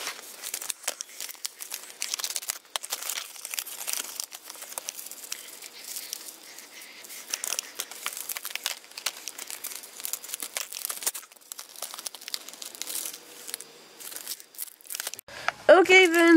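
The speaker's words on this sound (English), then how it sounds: "let's open these mysterious packages" Plastic wrapping on mail packages crinkles and rustles repeatedly as they are opened with scissors, close to the microphone, with a few sharper tearing snaps near the end.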